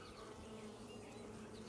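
Honey bees buzz in a dense, continuous drone inside an open beehive, close up and fairly soft, with no talking.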